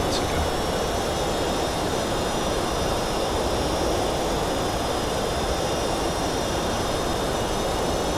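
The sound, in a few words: Boeing 757 jet engines descending, X-Plane 11 video game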